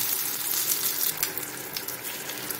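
Curry leaves dropped into hot oil for tempering a kuzhambu sizzle in a steady, close, crackling hiss that holds for the whole stretch, with no voices.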